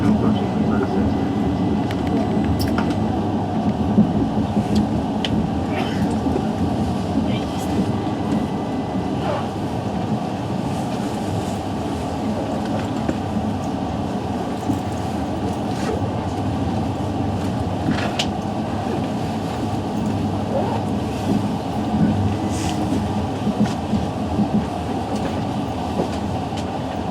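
A Northern passenger train rolls toward Leeds station on the Harrogate line, heard from inside the carriage as a steady low rumble with faint rail clicks and occasional creaks, moderately loud and continuous.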